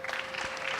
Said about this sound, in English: A round of applause again for Dr. Banjoko